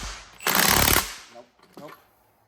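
Impact wrench with a 26 mm oxygen sensor socket hammering on the downpipe of a BMW X3 N55, one loud half-second burst of rapid rattling blows, followed by faint shop noises.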